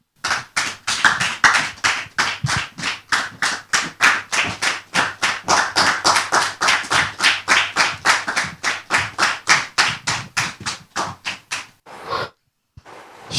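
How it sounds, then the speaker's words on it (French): A stage audience claps in steady unison at a brisk, even beat for about twelve seconds, loud and close, before the clapping breaks off. "je vous demande de la recevoir ici et maintenant sous vos applaudissements"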